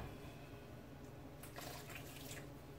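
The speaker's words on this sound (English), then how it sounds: "So now I'm gonna go ahead and add my water." A faint, steady background hiss gives way to a brief gush of running water being poured into dumpling dough, quiet and close.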